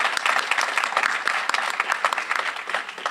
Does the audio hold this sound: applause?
yes